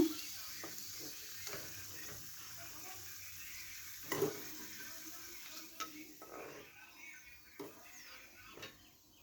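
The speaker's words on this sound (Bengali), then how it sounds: "আলুটা আমি ভেজে উঠিয়ে নেব" Potatoes fry in mustard oil in a wok with a steady, faint sizzle, broken by occasional scraping stirs and clicks of a utensil against the pan.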